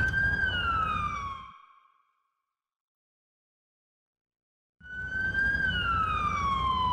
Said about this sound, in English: Come on, siren, turn off already.